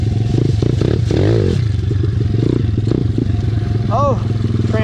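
An SSR 170TX pit bike rides a backyard dirt track, its single-cylinder engine droning close and loud with rhythmic throttle pulses and brief revs while clattering and scraping under a rider's talk.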